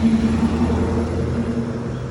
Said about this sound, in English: hear the big mail truck coming down through here